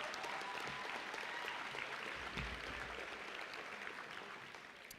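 Audience applause at the Naperville Central High School Class of 2024 graduation ceremony, a steady wash of many hands clapping that fades slightly toward the end.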